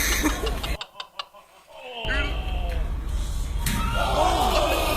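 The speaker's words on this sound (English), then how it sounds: "the smack of her face" A loud crowd roars at a Packers vs Cowboys football game, then a sharp smack of a face hitting the ground rings out followed by gasps and shouting voices.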